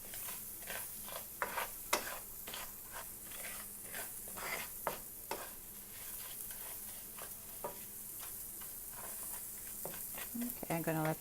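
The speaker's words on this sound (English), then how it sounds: "I'm going to throw the onions in and let them saute a little bit" Onions sauté in a pan with a steady sizzle, and a spoon stirs and scrapes at intervals, close and quiet, with a voice speaking briefly.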